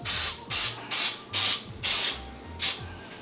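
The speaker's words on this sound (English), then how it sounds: "I'm still gonna spray Pam, my friend Pam" Pam cooking spray hisses into the bottoms of metal muffin cups in six or seven short, evenly paced bursts, close and loud in a quiet kitchen.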